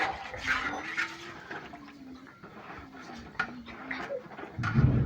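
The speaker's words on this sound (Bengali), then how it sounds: "আমি ঠান্ডা পানি দিলাম পানি দেওয়ার পর আমি নেড়ে দিচ্ছি" Cold water being stirred into biryani rice in a pot makes soft, close sloshing and swirling liquid sounds with light scrapes, rising to a louder splashy burst at the end.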